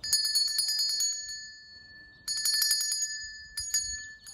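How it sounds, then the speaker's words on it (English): A bright, metallic bell rings in three quick bursts of rapid chimes separated by brief pauses, close and clear with no talking. "So he rang the doorbell"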